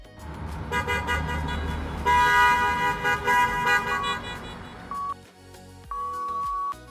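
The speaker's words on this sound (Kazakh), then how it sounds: "Машинаның сигналы." A car horn honks in a series of short toots followed by a longer sustained blast, loud and close, then brief electronic chime tones.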